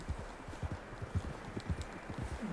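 Horse hooves clip-clop in the video game Red Dead Redemption 2, a steady run of soft, fairly quiet thuds at a walking pace, with no talk over them.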